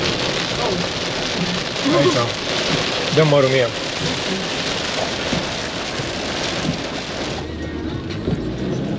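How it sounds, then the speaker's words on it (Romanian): Heavy torrential rain pours steadily on a camper van parked in Gambia, a loud continuous hiss drumming on the roof while a couple of people talk briefly over it. "Mamă, fii atent ce plouă aici."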